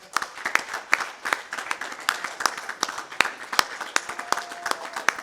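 Yuvraj Singh receives standing applause at a Mumbai Heroes team press conference: uneven clapping from a modest crowd, with scattered claps and a few sharp, close hand strikes.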